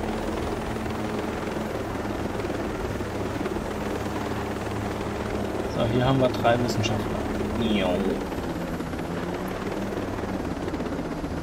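A helicopter in a video game drones steadily as a continuous rotor hum throughout, with someone talking over it and a brief louder swell of engine noise in the middle.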